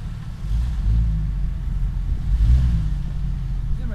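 Off-road jeep engine rumbling low and close, rising in two revving surges over a few seconds with a deep, steady growl between them.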